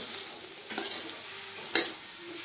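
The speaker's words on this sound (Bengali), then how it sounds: "বেগুনটা ভাজা হয়ে গেছে, এবার আমি এটাকে উঠাবো" Eggplant slices frying in oil, a steady soft sizzle with two sharp scraping clinks of a utensil against the pan, close and fairly quiet.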